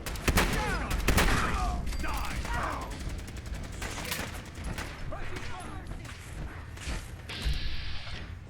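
Gunfire in the video game Fallout 4: bursts of shots and rapid automatic fire crack over a busy combat mix, with mechanical clanks and thuds, and game voices are heard at times.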